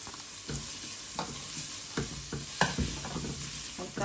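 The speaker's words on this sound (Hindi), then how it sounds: "बस हल्का सा हमने इनको सौटे करना है" Green chillies, garlic and onion sauté in a pan, a soft, steady sizzle broken by several sharp stirring scrapes and clacks of a utensil, close and fairly quiet.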